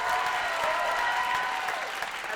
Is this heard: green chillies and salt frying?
no